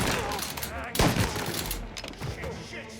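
Gunfire in the Mafia: Definitive Edition game, with a sharp loud volley near the one-second mark followed by scattered shots and thuds while excited voices shout over the action.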